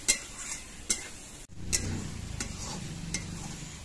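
Eggplant fries in oil over very low heat, a soft steady sizzle broken by sharp clicks and scrapes of a utensil stirring in the pan, fairly quiet and close.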